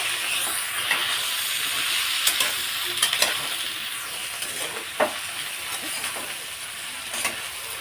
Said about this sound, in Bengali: এবারে তেলের মধ্যে একটু ভাজবো